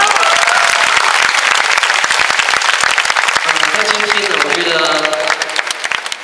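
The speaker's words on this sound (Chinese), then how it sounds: "我们给他一个很热情的掌声" Loud, dense audience applause fills a concert hall at a benefit concert for visually impaired performers, steady throughout before tapering as music and a voice begin to emerge near the end.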